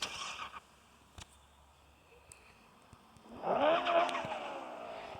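A car in the mobile driving game Car Parking starts up and pulls away, its engine tone rising smoothly in pitch after a few faint clicks, with game sounds before it and no one speaking.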